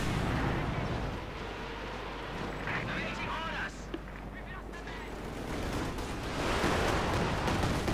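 MG-42 machine gun fire in Company of Heroes 2 crackles as a dense, continuous rattle of gunfire and battle noise, with a commentator talking over it throughout.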